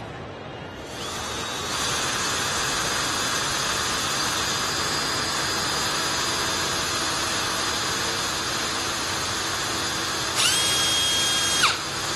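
Power drill boring a hole with a drill bit in a custom-fabrication garage, a loud steady whine running for several seconds alone, rising briefly in pitch near the end.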